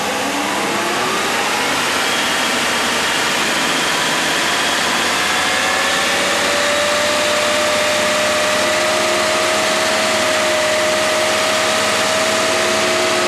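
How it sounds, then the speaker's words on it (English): A rebuilt 1987 Mercedes 560SL engine runs close by with steady mechanical noise, its pitch rising gradually as the revs climb and then holding at a higher speed. "let's bring this RPM up"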